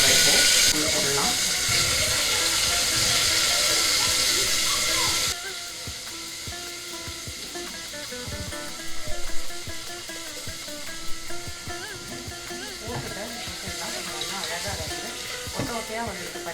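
Washed shelled green peas tipped into hot oil set off a loud, dense sizzle for several seconds, then settle into a quieter, steady fry with faint stirring and kitchen clatter.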